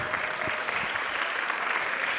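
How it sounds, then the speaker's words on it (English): Audience clapping steadily for a young dancer's Arangetram performance, a dense, continuous round of applause from a seated crowd at moderate distance, with no talk over it. "can we have a great round of applause for Yuvika?"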